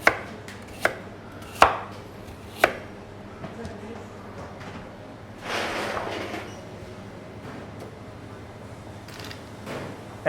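A kitchen knife chops celery into big pieces on a board, with several sharp, irregular strikes early on, then a brief rustle of moving the pieces and a final cut, close and fairly loud.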